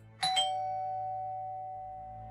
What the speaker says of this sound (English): As you're sipping your coffee, the doorbell rings.